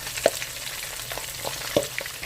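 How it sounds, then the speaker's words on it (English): Cheesecake chimichangas sizzle and crackle in hot peanut oil, with a steady frying hiss and a few louder pops, no voices. "added the cheesecake chimichangas to the hot peanut oil"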